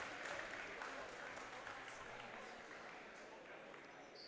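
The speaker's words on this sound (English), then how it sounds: "And Sasha Gauthier gets a big round of applause as he comes up here." Applause from a crowd at a men's college basketball game as an injured player heads to the bench, a steady broad clatter of clapping over arena noise with commentary talk running through it.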